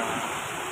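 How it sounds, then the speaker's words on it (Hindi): Heavy monsoon rain pours down in Udaipur, a dense, steady rushing hiss like running water that stays constant and fairly loud throughout, with no voices. "देखिए कितनी जबरदस्त बरसात जो है वो हो रही है"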